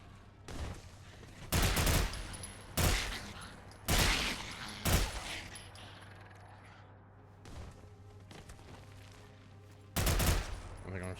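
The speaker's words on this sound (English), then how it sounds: "I think I'm shooting through the floor" Bursts of gunfire ring out in the Fallout: London video game, with several loud volleys spread across the stretch and quieter game sounds between them. A voice is heard faintly at times.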